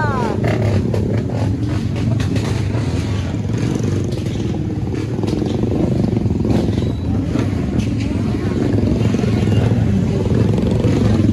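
Motorcycles and cars on an Independence Day Freedom Ride roar continuously and loudly close by, a dense rumbling engine drone with clattering edges and no break throughout.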